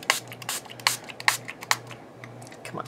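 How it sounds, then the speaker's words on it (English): A handheld spray bottle sprays water onto a fat book being repaired, making a rapid series of short, crisp hissing spritzes close up, with no talking. "I'm going to spray some water on it so it doesn't..."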